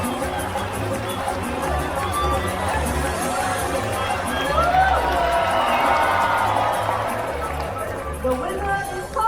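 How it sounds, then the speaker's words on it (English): An outdoor crowd at a bird show in a Singapore bird park cheers and calls out together, a sustained, loud roar of mixed voices and whoops with a steady low rumble underneath, briefly swelling midway. "Everyone get ready to cheer up."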